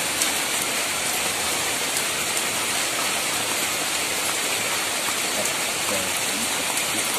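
Steady rain falls outdoors over a rice field on Lombok, a loud, even, dense hiss of drops pattering without pause, close around and with no voices.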